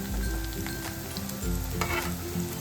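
Chopped green chillies tossed into onions frying in a pan for a spicy chicken dish, giving a steady close sizzle with stirring scrapes and low music-like tones underneath, no talk.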